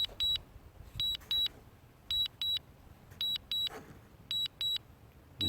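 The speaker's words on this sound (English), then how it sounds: "turn the media sound down, it's a minor beeping" Short electronic beeps from a DJI Mavic Mini drone app come in repeated pairs and triplets, crisp and close, over faint outdoor background noise.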